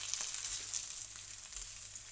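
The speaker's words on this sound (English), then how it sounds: "Oh, lovely sizzle on that" Salt and pepper chicken pieces fry in a hot pan, giving a soft, steady crackling sizzle. The sound is fairly faint and continuous, with no voices.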